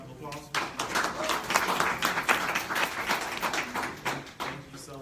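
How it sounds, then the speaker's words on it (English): A room of alumni at a general body meeting gives a guest another round of applause, a dense, sustained clapping that fills the whole stretch, with faint voices underneath. "Harmon one more round of applause."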